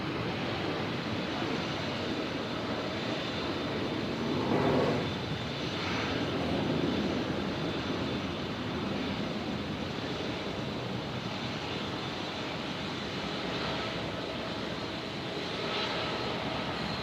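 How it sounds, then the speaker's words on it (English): A Jetstar Airbus A321neo lands at Brisbane Airport, its engines giving a steady, loud broadband roar that holds for the whole stretch, with a slight swell near the middle and no voices. "There is the 321 Neo of Jetstar in from Sydney, Jetstar 818."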